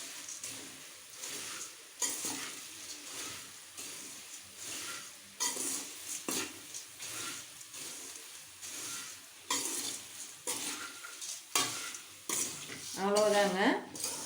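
Puffed rice being tossed and mixed in a pan for spicy kara pori snack, close repeated scraping stirs with a light sizzle underneath, and a voice speaking briefly near the end.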